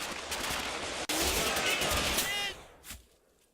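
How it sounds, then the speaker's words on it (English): Sustained infantry squad gunfire in Combat Mission: Final Blitzkrieg, a dense crackling volley of rifle and machine-gun shots up close that breaks briefly, resumes, then fades to a quiet tail with a faint later burst. "On the hill, 1st squad achieve an enfiladating fire on the unfortunate scouts"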